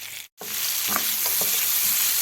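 Sliced onions sizzle steadily in a hot pan for Egyptian-style sausage, loud and close, with a brief gap near the start and scraping stirs over the frying.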